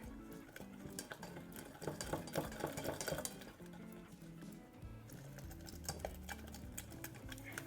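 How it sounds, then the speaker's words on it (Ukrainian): Cold eggs stirred into a caramel mixture in a saucepan, with quiet ongoing scraping and light clinking of a utensil against the pan, close up and faint, layered over soft background music. "І далі додаємо холодні яйця до карамельної маси. Перемішуємо."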